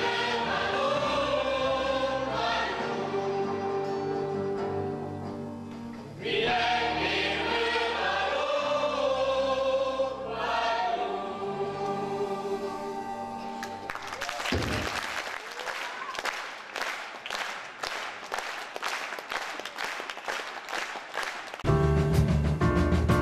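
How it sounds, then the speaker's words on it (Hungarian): An audience gives loud, sustained applause after a folk dance and theatre performance. Music plays at first, then thick steady clapping takes over and continues to the end. "előadását vastapssal köszönte meg a közönség"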